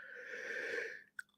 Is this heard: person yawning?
yes